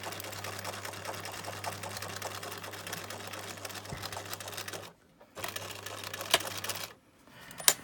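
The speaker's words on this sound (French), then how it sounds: "je fais rebasculer mon aiguille de l'autre côté pour venir piquer ici donc le deuxième emplacement de l'autre crayon" A sewing machine stitches pockets into a shabby-style pencil pouch, running in a steady fast rhythmic whir with a brief pause, then resuming in short bursts, close and clear without speech.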